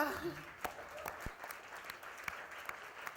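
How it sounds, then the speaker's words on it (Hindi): Scattered clapping from a press audience at a television show launch, thin and uneven, with a few sharp individual claps standing out and faint murmuring beneath. "तो एक बार जोरदार ताली बजा दे मेरे राजा"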